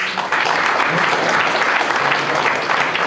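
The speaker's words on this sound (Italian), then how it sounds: "Gli facciamo un applauso" Sustained applause from a large audience at a lecture on politics and peace, a loud, dense wash of clapping that starts abruptly and holds steady throughout, with no speech.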